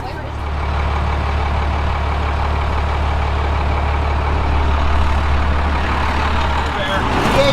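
A four-wheel-drive vehicle pulls out across the desert during a tow truck recovery, its engine giving a steady loud rumbling drone throughout while people talk nearby.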